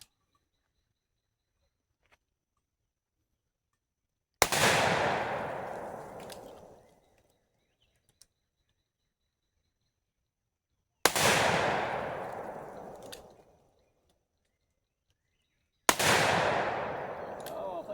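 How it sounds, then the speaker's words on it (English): Three loud, near gunshots from a factory-engraved Colt Anaconda .44 Magnum revolver with a 6-inch barrel, each a sharp crack with a long ringing decay, spaced several seconds apart with silence in between. "Wow, as you can tell, the 44 mag is quite a pop."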